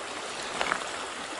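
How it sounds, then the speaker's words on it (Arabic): A river runs over rocks in a rocky mountain area, a steady broadband rush of flowing water with a couple of brief splashes, close by and with no voices. "شاهدوا معي كيف يسير النهر في هذه المنطقة الجبلية الصخرية."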